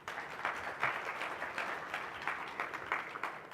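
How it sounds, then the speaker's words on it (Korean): An audience at a Python developer conference session applauds a speaker, a moderate sustained patter of clapping from a room-sized crowd, fairly soft and steady. "일단 스피커님께 박수 부탁드립니다."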